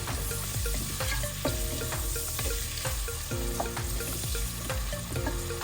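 Fennel seeds and fenugreek sizzle steadily in hot oil in a curry pan, with repeated scraping stirs of a spoon over the continuous frying, close and loud with no talk.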